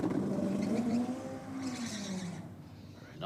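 A race car with an automatic transmission winds up and passes by on a drag strip, its rising then falling drone ringing with strong harmonics before fading into steady background noise.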